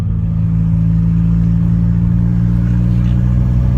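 A Toyota Supra MKIV idles close by with a rough idle, making a loud, steady low rumble that carries a slight uneven flutter. The engine is heard alone, with no talking.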